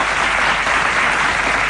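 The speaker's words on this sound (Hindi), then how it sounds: "तालियों की आवाज सुनते ही प्रधान जी ने राहत की सांस ली।" Steady, dense applause from a gathered audience after a speech in a Hindi radio drama, loud and continuous with no voices over it.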